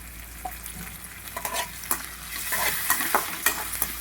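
Onion and ginger garlic paste fry in a pan for a gongura egg curry, a steady close sizzle broken by repeated scraping stirs that grow louder toward the end, with no voices.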